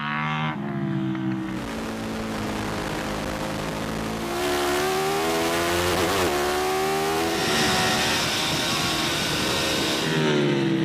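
A Kalex superbike accelerates at racing pace, its high-revving engine whining loudly and climbing in pitch as it swishes past, with a sustained roar throughout.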